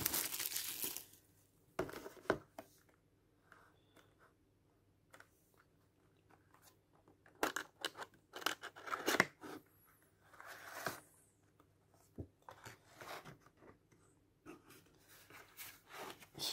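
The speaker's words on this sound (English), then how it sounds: "Oh, I love breaking the seal on games like this." A plastic seal being broken and peeled off a Nintendo Switch game case, quiet close-up crinkling and crackling in short irregular bursts with pauses between them.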